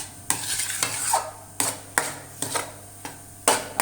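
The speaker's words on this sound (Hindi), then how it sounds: "हम इसके अंदर खोया ऐड करेंगे और इसे भूनते रहेंगे" Sweet potato halwa with about 200 grams of khoya being stirred and roasted in a pan, a soft sizzle under repeated sharp scrapes and taps of the spoon at an irregular rhythm.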